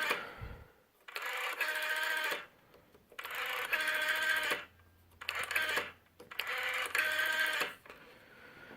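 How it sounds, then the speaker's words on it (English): A fast rotary dial on a 1977 Kirk Model F68 telephone from Denmark whirs close up in four buzzing, clicking runs of about a second each, separated by short pauses. "the one major thing different about this phone is that it has a pretty fast dial"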